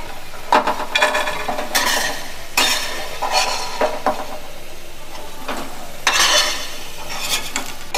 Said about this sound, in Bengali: আলুগুলো এবার আমি তুলে নিচ্ছি